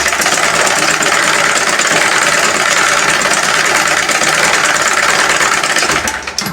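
A sewing machine runs steadily stitching both sides of a garment sleeve, a loud close mechanical whir with a fast rhythmic needle knock that slows and stops at the end.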